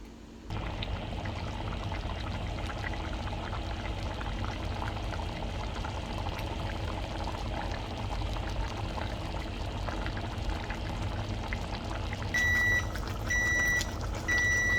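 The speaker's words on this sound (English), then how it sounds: "we're going to let this simmer, let's say maybe 3 minutes and see how it looks" A vegetable medley simmers in a pot on the stove with a steady, close bubbling hiss that runs throughout, and a few short electronic beeps sound near the end.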